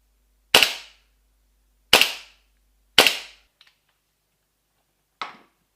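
A Double Bell gas blowback airsoft pistol fires three sharp, loud cracks about a second apart, followed by a faint click and one more shot, each with a brief decay in a quiet space.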